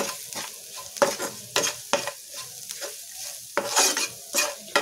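Baby potatoes with spices and salt being stirred in a frying pan, a spatula scraping in repeated uneven strokes over a steady close sizzle.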